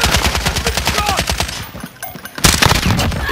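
Automatic gunfire in Call of Duty Warzone on Rebirth Island, a rapid, loud, close string of shots that stops briefly, then sharper bursts resume.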